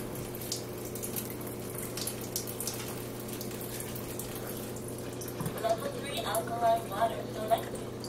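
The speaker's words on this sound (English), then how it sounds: "pour water from both the two end ones, the Athena and the the Delphi" Water runs steadily from Athena and Delphi water ionizers, a soft continuous faucet-like flow heard at moderate distance, with some background voices and light clinks toward the end.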